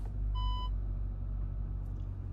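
A 2021 VW Tiguan shifted into reverse sounds one short, clear electronic beep over the low rumble of the idling engine.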